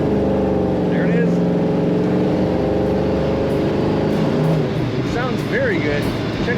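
A 1967 Ford Mustang coupe idles and runs steadily with a low, even engine drone, close and continuous, while a person talks over it.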